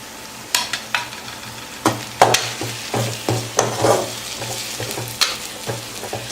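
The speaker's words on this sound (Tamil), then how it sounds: "அது எல்லாமே போட்டு இப்போ இதில் மிக்ஸ் பண்ணிக்கலாம்." Spice powders are stirred into fried onions in a pan. Repeated loud spatula scrapes and knocks sound over a low sizzle in an irregular rhythm, heard up close with no voices.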